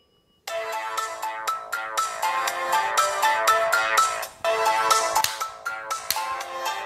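A ringtone melody plays from the bottom speaker of an Elephone P5000 phone, a bright, repetitive electronic tune with rapid note pulses that continues steadily after a quiet start, fairly thin and tinny.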